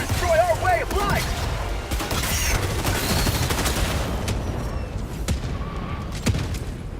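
A deployed sentry turret in the video game Helldivers 2 fires dense, rapid bursts amid booming explosions and other battle noise, loud and continuous throughout, with voices mixed into the chaos.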